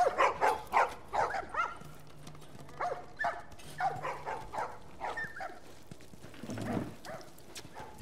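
Dogs bark and whimper in The Last of Us video game, a run of sharp yelps and barks with whines between them, fairly close and busy, and no speech.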